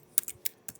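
Four or five quick, close clicks of typing on a computer keyboard, a short burst alone in a quiet room.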